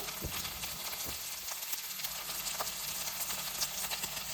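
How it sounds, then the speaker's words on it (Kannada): Half a tomato frying in a pan for mushroom palav: a steady, fairly loud sizzle with scattered crackles and a few soft stirring knocks, running continuously throughout. "ಅರ್ಧ ಟೊಮೆಟೊ ಹಾಕ್ತಾ ಇದ್ದೀನಿ. ಇಷ್ಟನ್ನು ಫ್ರೈ ಮಾಡಿ."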